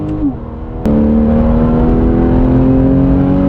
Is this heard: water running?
no